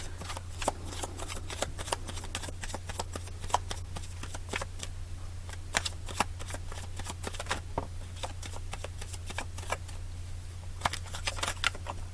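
Playing cards are shuffled close by in a quiet room, a long run of crisp rapid riffling and flicking with brief pauses and no talk.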